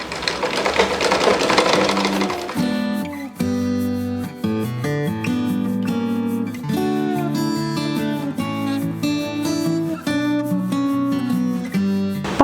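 A sewing machine stitches along a folded cloth edge, running in a rapid mechanical clatter with short stops and restarts, close and loud with no talk.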